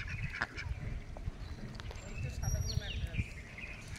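A flock of ducks quacking and honking at close range, faint overlapping calls scattered through steady chatter and voices.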